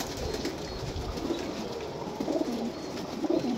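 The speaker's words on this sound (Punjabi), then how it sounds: "ਹੁਣ ਇਹ ਕਬੂਤਰ ਦੇਖੋ" Pigeons coo softly in a loft in Jhelum, a few low, rolling calls rising over a steady ambient hum, moderately close but fairly quiet, with no talking.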